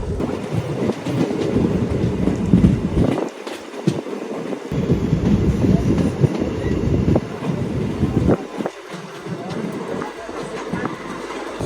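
An electric train runs through Kashmir on the Banihal to Baramulla line in winter, giving a steady, loud interior rumble with rattling wheel clatter and passing bumps throughout.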